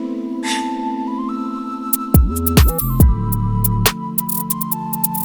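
Melodic drill beat built in Ableton: a sparse melodic intro gives way to a drop where punchy kicks and a deep sliding 808 bass come in, loud and alone with no voices.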